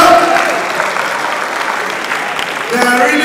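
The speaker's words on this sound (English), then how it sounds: "Clap for them now, please now." Audience applause at an award ceremony during the 2020 Lagos Fashion Show, dense steady clapping from a crowd throughout, fairly loud, with a voice over the PA briefly mixed in.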